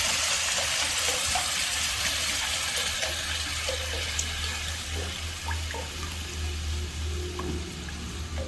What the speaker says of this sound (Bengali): মশলাটা হয়ে গেলে দিয়ে দেবো ওতে জল,